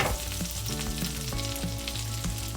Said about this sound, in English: We're going to add 2 good tablespoons of cold unsalted butter and let it start to melt